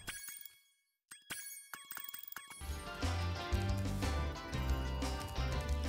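Soundtrack music from the Spyro video game plays, with bright chiming percussive hits and pauses at first, then a dense, steady groove with a prominent bass line, loud and continuous with no talking.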